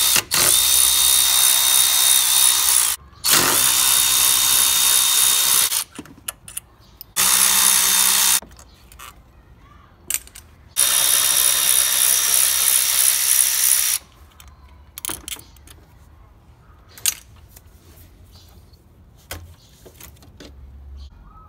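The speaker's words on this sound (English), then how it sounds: "take an 8mm or 5/16 socket and remove all 4 bolts" An 8mm ratchet and socket backing out the bolts on a failed electronic throttle body of a 2011-2017 Ford: loud, close clicking bursts of a few seconds each, separated by short pauses and faint handling noise.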